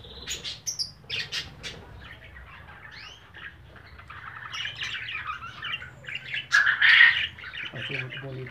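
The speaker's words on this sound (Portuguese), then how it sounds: "Periquito aqui, vamos ver se eles não vão voar." Budgerigars in a colony aviary chirp and squawk in busy overlapping bursts, some calls sharp and close, others softer in the background, rising to a louder burst near the end.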